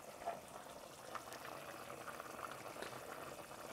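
Chicken plov bubbling in a pot with chili peppers and cumin, a soft, steady boil with small popping bursts, quiet and close with no voices.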